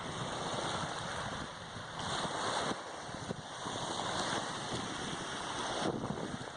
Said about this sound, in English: Playing its rhythmic, beautiful music of the waves.